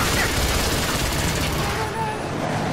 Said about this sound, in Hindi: तू पहलने लग गया दमा दम गोलियां